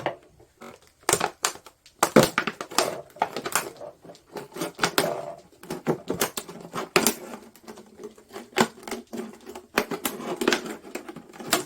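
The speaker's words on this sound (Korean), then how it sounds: "페트병은 여기를 잘라줍니다." A plastic PET bottle is cut apart to make a hydroponic hanging planter, giving close, irregular bursts of sharp crackling snaps and crunchy plastic clicks that run steadily throughout, with no voices.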